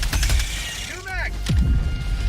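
Magazine reload in the video game Helldivers 2: a quick run of mechanical clicks and ratcheting metal, layered with game effects and background chatter.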